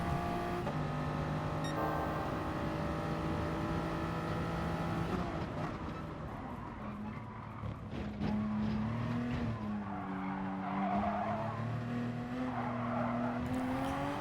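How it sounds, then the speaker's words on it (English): A race car in a racing video game clattering over a curb, engine whine shifting pitch with a brief rough jolt and tire scrub, loud and continuous throughout. "I hit the curb and it really shook the car, made it really loose"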